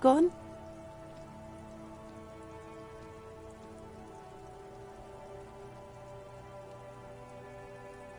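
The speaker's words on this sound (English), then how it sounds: "It's raining" Steady rain falls continuously after a brief loud burst at the start, a soft even patter holding at low level throughout, with faint tonal hum beneath and no clear voices.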